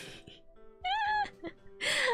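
A few soft, high-pitched squeaky vocal sounds close by, ending in a quick, sharp little sneeze.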